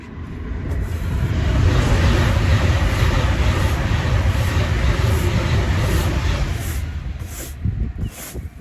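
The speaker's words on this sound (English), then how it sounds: "another train coming now." A train rumbles past, a loud steady roar that swells and lingers, then gradually eases off toward the end.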